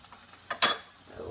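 Eggs fry in butter in a pan with a faint steady sizzle, broken by two close scraping clinks of a utensil against the pan.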